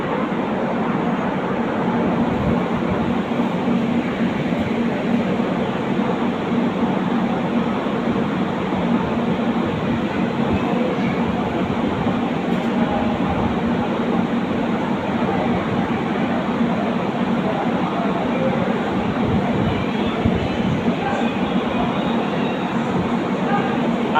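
A train rumbles at a long station platform, a loud continuous low roar of rolling wagons with faint rail clatter throughout, close by and unbroken for the whole stretch.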